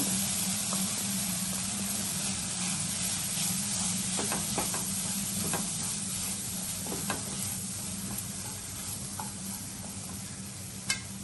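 Mawa fries in a pan heated over a gas flame, giving a steady sizzle and hiss with occasional scraping stirs and small pops, close up and continuous with no speech.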